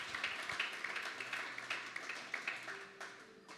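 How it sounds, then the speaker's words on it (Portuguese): A church congregation applauds visitors with steady, fairly faint clapping that carries on for a few seconds, individual claps popping out of the dense patter before it thins near the end. "Dá uma salva de palmas aí para os nossos visitantes."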